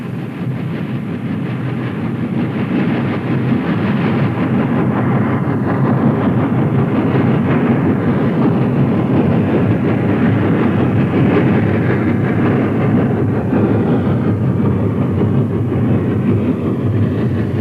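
Norfolk and Western steam locomotive 2143 hauling an eastbound extra near Potts Valley Junction in 1957, a loud, steady rumble and roar of the train passing close throughout, with no voices.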